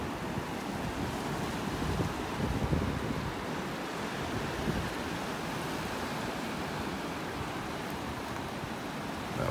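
Ocean waves wash continuously onto a beach in North Naples, Florida, a steady broadband roar of surf mixed with wind buffeting the microphone, with no voices.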